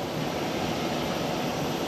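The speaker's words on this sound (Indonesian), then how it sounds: "Ini naik pesawat kecil ya, pesawat buatan Rusia, Sukhoi Superjet 100." Steady, loud broadband roar of a Sukhoi Superjet 100 regional airliner's jet engines, heard from inside the small Russian-built plane with no break, no talk and no other sounds.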